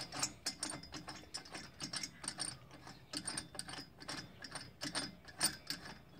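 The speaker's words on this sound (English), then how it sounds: "this bolt just threads out. Once you get it loose, okay, and then it'll pull out, and then you have to thread it out some more." A ratchet unthreads a long bolt from an Odes clutch, giving quick, even bursts of close, quiet clicking that repeat in a steady rhythm with no talking.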